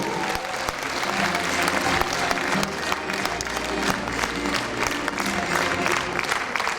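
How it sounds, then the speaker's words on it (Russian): A concert audience applauds steadily and loudly for several seconds, a dense crowd of hands with no voices over it. "Под ваши аплодисменты."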